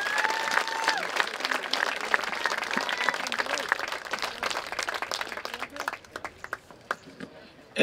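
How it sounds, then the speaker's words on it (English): An audience applauds Korean War veterans at a Veterans Day celebration, with dense crowd clapping that is loud at first and then thins out to scattered claps before ending. "Let's give one big more round of applause for our Korean War veterans."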